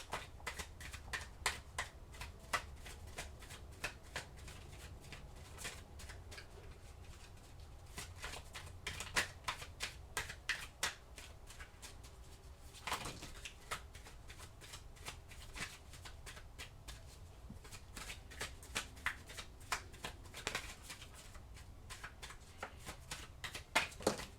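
A tarot deck is riffled and shuffled by hand in quick, crisp bursts of card flutter, then cards are slapped and drawn. The sound is close and quiet, with short pauses between flurries.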